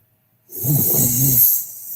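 A person snores once, close and alone: a single rough, rumbling inhale that follows silence and trails off into a soft hiss.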